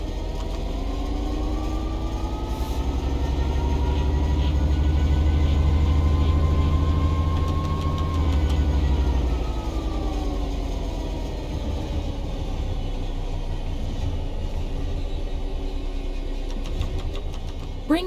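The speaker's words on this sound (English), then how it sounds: "The train will then coast on level ground, and the train will only slow down very gradually." A train in Train Sim World 3 coasts on level ground, its steady low rumble and engine hum carrying on evenly throughout with slowly shifting tonal whine and no talk.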